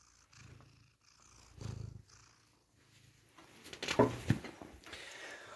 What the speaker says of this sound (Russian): Кот, хватит мешать, я видео снимаю